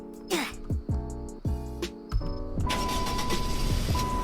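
A cheap five-seat car in the Roblox game Greenville cranks with several short, repeated starter bursts, then catches and settles into a steady running hum.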